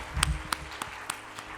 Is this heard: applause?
yes